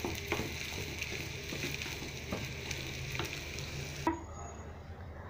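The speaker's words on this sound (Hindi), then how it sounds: "इसको इतना अच्छी तरह से हिलाएं कि जो ज़ीरा हमने फ्राई किया और लहसुन वो इस पूरे मसाले में अच्छी तरह से मिक्स हो जाए" Cumin and garlic fry in a pan of potato masala for samosa filling, a steady close sizzle with repeated scraping stir strokes, ending in a sharp clank before the frying cuts off.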